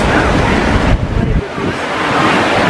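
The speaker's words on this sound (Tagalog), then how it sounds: "Ang hangin." Strong, steady wind buffeting the microphone outside Cologne Cathedral, with a roar like nearby surf mixed in and a brief dip partway through.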